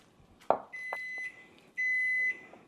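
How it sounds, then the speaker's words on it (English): A kitchen timer goes off close by with two long, steady high-pitched electronic beeps separated by a short pause, after a brief clatter at the start. "there's our second 5-minute timer"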